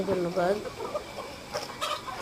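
Egyptian Fayoumi chickens on a rooftop, a few nearby clucks and soft calls over a brief spoken word.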